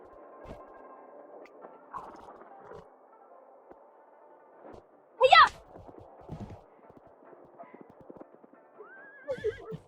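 A horse whinnies sharply in the middle, with hoof clip-clops and faint movement around it and another brief whinny near the end.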